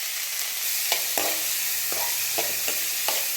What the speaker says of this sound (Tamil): இப்போ பொடி பொடியாக அரிஞ்சு வச்ச இந்த சௌச்சவையும் ஃப்ரெஷ் பட்டாணியும் இதில் போடணும்.